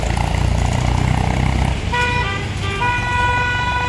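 Road traffic jammed on a Rajasthan road during a large sheep crossing of some 400-500 animals, a steady engine rumble giving way to several long, overlapping car horn toots in the second half, fairly loud and close.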